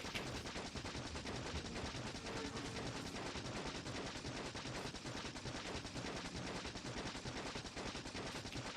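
Sustained automatic gunfire in Factorio as a player shoots at an alien colony, a continuous dense rapid rattle of shots lasting throughout at steady loud level with no talk.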